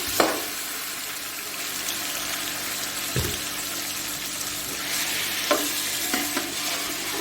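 Beef pieces frying and being stirred in a pot for Kabuli Afghani pulao, a steady close sizzle with a few sharp scraping clanks of a spoon against the metal.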